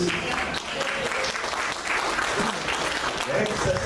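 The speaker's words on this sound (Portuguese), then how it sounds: "Essas palmas é de quem está alegre." A church congregation claps steadily and loudly throughout, a dense wash of applause with voices mixed in beneath it.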